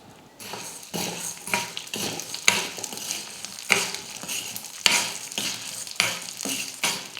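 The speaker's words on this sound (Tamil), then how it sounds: "உளுந்து ஒரு பாதி அளவுக்கு நல்லா வறுபடணும்." Urad dal roasts in hot oil in a kadai, a continuous sizzle broken by repeated scraping and clinking strokes of a spoon stirring the lentils against the metal pan, close and fairly loud.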